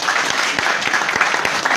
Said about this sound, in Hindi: उनके लिए भी ताली होना चाहिए।